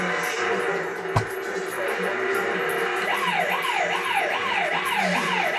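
A modified Power Wheels jeep sounds its siren, a wailing electronic tone rising and falling in a steady rapid cycle, clear and close, after a sharp click and some faint background noise.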